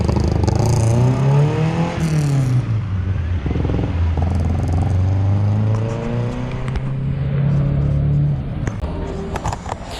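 Ford Escort nicknamed Flippy fitted with a full freeflow exhaust system, revving and pulling away with a deep, loud, rising and falling engine note from close by, with brief voices mixed in.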